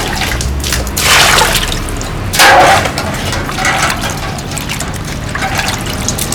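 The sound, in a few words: washing pickled cabbage with water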